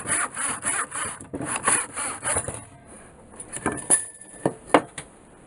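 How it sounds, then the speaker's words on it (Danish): A hand saw cuts through a piece of wood in a workshop, steady rasping back-and-forth strokes up close, then slower, more scattered scraping and knocks as the cut finishes, with no voices. "Og den vil jeg så skære op, eller save op, også i fire stykker"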